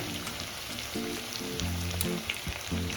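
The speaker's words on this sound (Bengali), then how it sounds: "এবারে টমেটোটা দিয়ে দেবো, কাঁচা লঙ্কাটা ফাটানো ওটা দিয়ে দেবো" Tomato and green chilli frying in a pan of oil, a steady close crackling sizzle with bright spattering pops, loud and continuous, along with a low tonal hum in the background.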